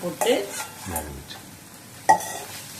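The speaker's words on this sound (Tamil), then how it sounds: "இப்போ நல்லா டீப் ஃப்ரை ஆகணும், சிகப்பாக வறுக்கணும்." Bitter gourd deep-frying in oil in a pan, with a soft sizzle under stirring clatter and a couple of sharp utensil knocks against the pan, close by.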